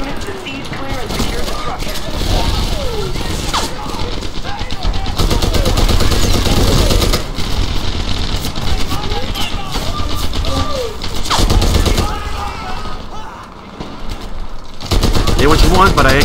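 Browning Automatic Rifle fire in Medal of Honor Airborne, loud repeated bursts of close automatic shots mixed with other battlefield gunfire, running almost continuously with short pauses, under occasional talk.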